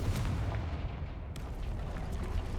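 Confringo fire spell exploding in the game Hogwarts Legacy, a dense rumbling blast of low booming noise sustained throughout, loud and close with no voices.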